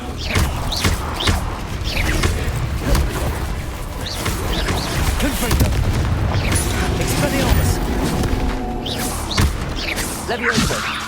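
Repeated booming spell blasts and impacts from Confringo casts in the Hogwarts Legacy video game, dense and loud throughout amid continuous battle noise and speech.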